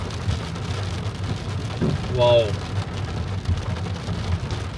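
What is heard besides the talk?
heavy rain while driving a car in Riyadh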